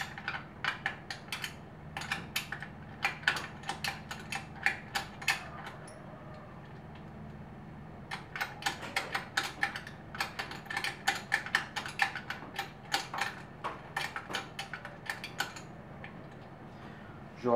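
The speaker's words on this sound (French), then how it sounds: "Vous prenez votre vis de réglage et là vous la revissez." A wrench turns the chain adjustment screw on a pit bike, giving a long series of quick light metallic clicks and ratcheting ticks up close, in two busy stretches with a short pause between.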